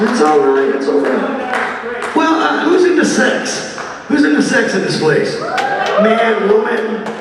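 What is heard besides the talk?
No everyday noise stands out behind the speech.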